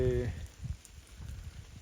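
Rain falls steadily over a wheat field, a soft, continuous wash of patter close by, with a brief voice-like tone at the very start.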